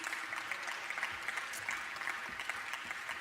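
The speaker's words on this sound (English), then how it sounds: "Can we give her a round of applause, please?" Faint, steady applause from a conference audience honoring a union president at a high-level panel, a dense even patter that holds for the whole stretch without pause.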